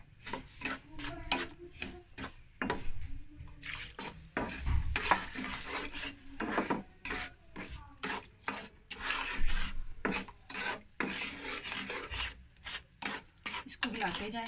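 Milk being stirred into a bread mixture in a pan over a raised flame, with a steady run of close rasping, scraping strokes of the spoon against the pan and a light sizzle underneath.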